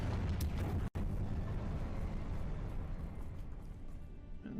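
A fire spell cast in the Hogwarts Legacy video game bursts as a loud, sustained explosive roar, dense and booming, with a brief sharp cut near the start before the rumble continues and slowly eases.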